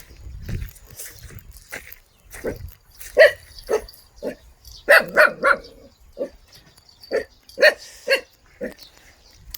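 Puppies on a rural farm in Korea bark in a scattered series of short, sharp yips, some in quick clusters, at moderate distance, with a person speaking briefly at the start.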